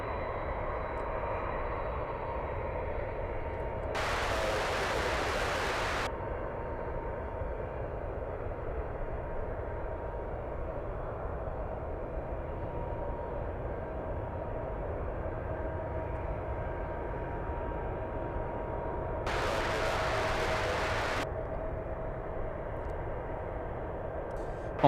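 A jet aircraft taking off from a runway at San Francisco International Airport, a steady loud engine roar that holds throughout with two brief bursts of broadband noise along the way.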